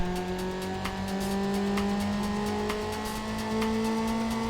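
An upgraded race car engine in Need for Speed Underground drones steadily with a rising, smooth whine, tires hissing faintly beneath; continuous and close throughout.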